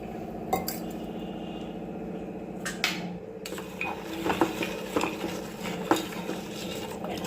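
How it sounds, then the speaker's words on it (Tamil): A utensil stirs jaggery dissolving in water and clinks against a heavy-bottomed metal pot, with light scraping and occasional sharp taps over a low steady hum. "வெள்ளம் கரைகிறது வரையும் கிண்டி விட்டுக்கிட்டே இருங்க"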